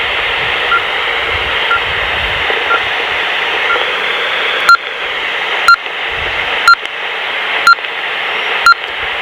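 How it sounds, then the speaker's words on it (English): Loud static hiss from a dog-tracking radio receiver turned down low on gain, then sharp electronic beeps arriving at a regular pace, about one per second, cutting through the noise. "you hear how loud that beep is?"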